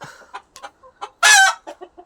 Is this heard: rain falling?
no